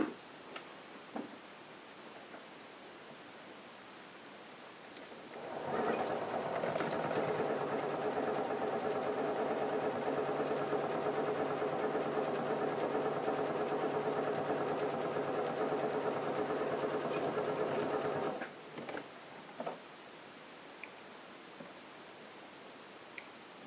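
A sewing machine stitches a line of fabric and fleece for a protective face mask. It hums and whirs steadily for about thirteen seconds, nearby and moderately loud, with quiet rustling and clicks before it starts and after it stops.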